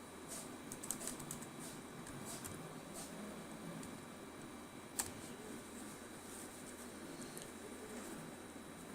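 A web address is typed on a computer keyboard, the soft key taps quick and light, partly buried in steady background hiss, with one sharper click partway through and no voices.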